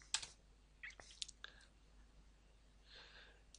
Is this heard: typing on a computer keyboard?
yes